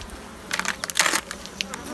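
Honeybees at a winter hive fed with cakes buzz close by in short, irregular bursts over a low background hum.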